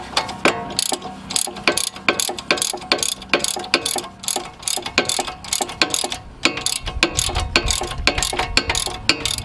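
A ratchet wrench tightens the 19 mm strut bolts on a Mercedes during a thrust arm replacement, giving loud, close, rapid clicking bursts in an irregular rhythm throughout.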